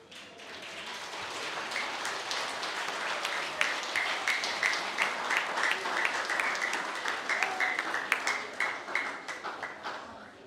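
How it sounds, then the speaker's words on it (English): An audience at a senior school prizegiving applauds students, a dense, sustained patter of many hands clapping at moderate distance, steady and slightly swelling over about ten seconds. "I can give these wonderful students a huge round of applause."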